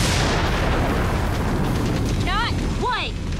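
Bomb explosions burst in a Power Rangers Super Samurai battle, a loud continuous roar of blasts and rumble filling the clip, with brief whooshing effects near the end.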